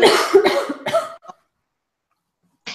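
A person coughs several times in a quick, close burst, then a pause, and then a short sound returns at the end.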